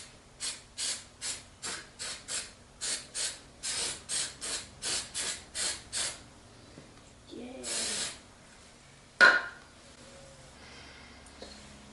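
Brake cleaner sprayed in a series of about a dozen short, rhythmic hissing bursts, then a longer spray, a brief rustle and a sharp knock, fairly close in a quiet room.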